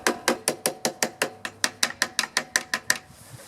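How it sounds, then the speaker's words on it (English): Fingertip or tool taps on the float bowl of a lawnmower carburetor that won't start after sitting, about fourteen quick, sharp metallic clicks in an even rhythm, close and distinct with nothing else around them. "And I can tap on the bowl."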